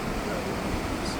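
The Great Falls of the Potomac River roar as a steady broadband rush of water, loud and continuous over the brief moment.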